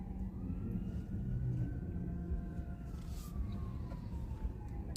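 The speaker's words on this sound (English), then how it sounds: "All I'm hearing is holiday sirens." A siren wails at a distance in Las Vegas, its tone sliding slowly up and down over a steady background rumble while driving, with no talking.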